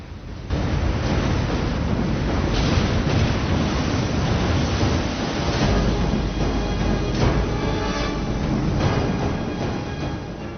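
A film scene of ocean waves flooding major cities: a continuous, loud roar of surging water and wind with rumbling low end, heavy and unbroken throughout with no voices.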